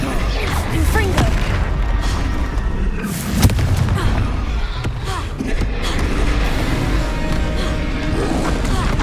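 A spell explosion from a Harry Potter video game, the Confringo blast, a dull boom standing out briefly from a dense, continuous wash of combat noise and ambience, with faint voice present.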